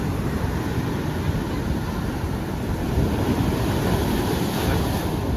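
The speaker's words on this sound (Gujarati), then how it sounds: "આમ જુઓ દરિયા મોજા કાંઈક કેટલા થઈ ગયા" Sea waves rolling onto the shore, a loud steady roar of surf with strong wind buffeting the microphone, continuous and close.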